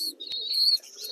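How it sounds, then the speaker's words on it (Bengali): Day-old pigeon chicks give thin, high peeping chirps while begging for food at hand-feeding time, a near, continuous squeaky call with a short break, alone without speech. "দেখুন, দুটো খাবার জন্য একদম চিচি করছে।"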